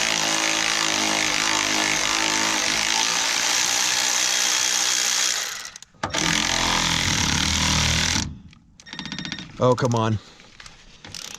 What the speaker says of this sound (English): Love this little Milwaukee ratchet.